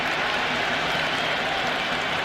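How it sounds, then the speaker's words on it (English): Stadium crowd in the stands in the cricket game Cricket 26, a steady dense roar of cheering and clapping with no pauses. "There's a buzz, a real buzz coming from the stands."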